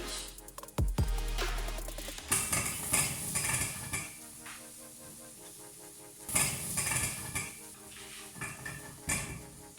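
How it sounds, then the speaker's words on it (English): Onions tipped into a hot pan over medium heat and cooked down with something roasting, as for pickled fish. Bright clattering and scraping of utensils against the pan come in bursts, with a dull thud near the start and steady frying noise between. "As they're roasting there, we're going to add the onions."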